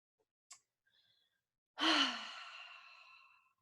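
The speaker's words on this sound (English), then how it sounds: "let's just do a quick breath exercise together" A single deep exhale during a breathing exercise, a long, breathy sigh that fades out gradually, preceded by a faint brief sound. It is heard alone with no talk.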